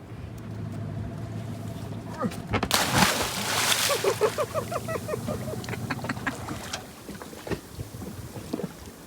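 A person jumps into the water at an atoll in Tahanea, landing with a sudden, loud splash. Sloshing and dripping follow, then voices start talking nearby.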